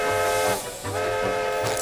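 Steam whistle of a big ocean train in a SpongeBob cartoon, a loud sustained shrill tooting blast with a slight dip midway, brief and close.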